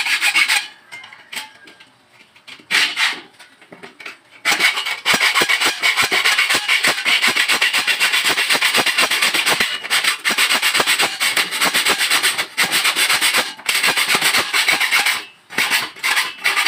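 Steel for a window frame is cut with a hand saw in bursts of harsh, rapid rasping strokes, close and loud, with brief pauses between runs.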